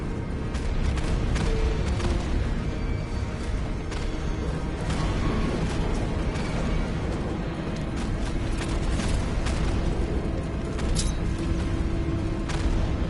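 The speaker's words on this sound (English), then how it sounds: "Warning, explosion imminent." At the Ace Chemicals plant in Batman: Arkham Knight, an explosion rolls on as a loud, sustained roar and rumble that stays heavy and even for the whole stretch, with scattered crackling debris on top.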